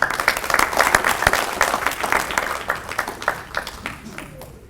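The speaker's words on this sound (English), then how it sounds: "Let us give a round of applause for every one of our wonderful, terrific kids." An audience at a school awards assembly claps and applauds for several seconds, a dense patter of many hands that gradually thins and fades out.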